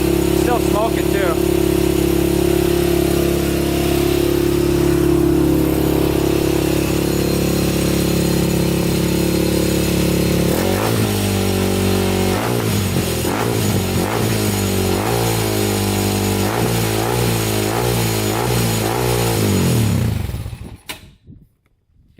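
Honda 400ex quad engine running loud and close with its throttle stuck high, a steady fast drone that shifts into stepped, pulsing revs partway through before cutting off abruptly near the end, with people talking over it.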